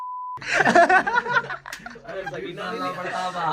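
A short, steady censor beep tone sounds alone at the very start, then gives way to chuckling laughter and lively talk.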